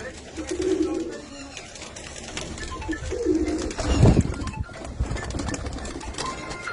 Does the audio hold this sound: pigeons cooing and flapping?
yes